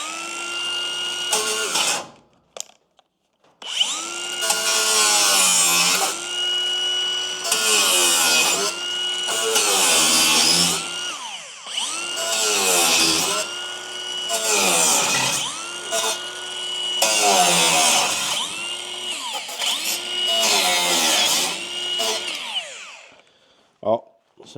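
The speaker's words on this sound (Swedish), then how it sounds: "Här kan man ju ta vinkelslipen" An angle grinder cuts into a horse trailer under renovation in a series of loud, close bursts, its whine rising and falling with each pass and short silences between cuts.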